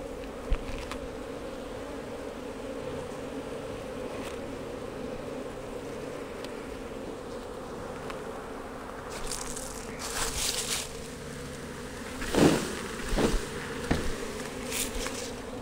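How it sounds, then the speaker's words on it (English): Honey bees hum steadily around an open hive while a beekeeper checks for mites, a dense near drone with brief louder buzzes of individual bees passing close toward the end. "So the field bees will fly back over here and go in the hive"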